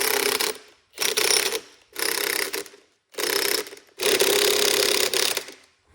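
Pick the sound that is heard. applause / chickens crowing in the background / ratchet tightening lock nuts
ratchet tightening lock nuts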